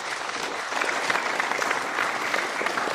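An audience claps steadily after a presentation, a dense and even burst of applause from a crowd that stays full and loud for a few seconds with no speech over it.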